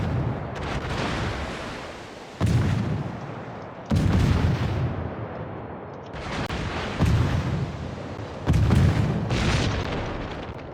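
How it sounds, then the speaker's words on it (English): Naval gun salvos fired at a Colorado battleship in a warship video game, several heavy booming shots in a row at about one- to two-second gaps, each followed by a rumbling tail, loud and close with no talking. "Got a couple good shells landed on that Colorado with AFT"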